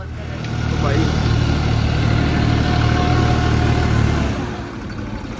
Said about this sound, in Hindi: ये डेमो चल रहा है स्पेशल एडिशन 3630 8 फुटा परम का रोटावेटर है भाई